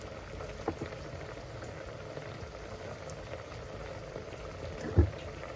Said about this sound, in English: The damsons are boiling.